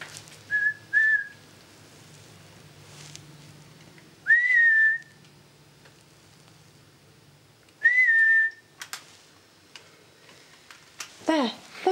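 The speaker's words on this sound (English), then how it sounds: "Whistle, whistle." A person whistles short, clear single notes three times during a night investigation at the reputedly haunted Brinkburn Priory, each note standing alone over a quiet, faintly ticking background.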